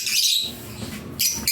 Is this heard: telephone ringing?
no